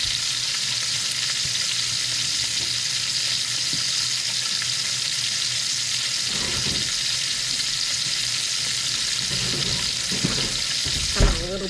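Brussels sprouts fry in a hot pan with a steady, broadband sizzle throughout, broken near the end by a few soft stirring scrapes and a knock.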